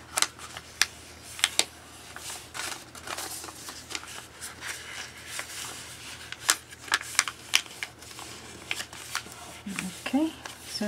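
Paper crane folded from origami paper, with soft crinkles, taps and sharp creasing snaps scattered irregularly and quietly, while a person talks in between.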